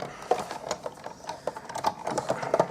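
A manual die-cutting machine is hand-cranked through with a precision base plate, giving close, irregular clicking and ratcheting mechanical sounds with no talk.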